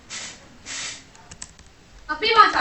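Typing on a computer keyboard while entering a search for a browser extension: two short bursts of rapid key clicks, then a few scattered taps, followed by a voice talking near the end.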